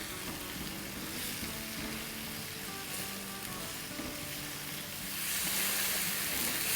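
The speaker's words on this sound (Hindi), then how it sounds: "टमाटरों के साथ 2 मिनट भूनेंगे।" Grated tomatoes and onions frying in a pan give a steady, dense sizzle that continues without a break and swells slightly louder near the end, close and unaccompanied by speech.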